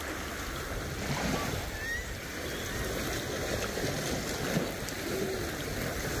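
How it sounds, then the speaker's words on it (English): Waves washing on a Great Lakes shore, a steady broadband surf rush with wind, continuous and moderately loud, no talking. "The waves are better here."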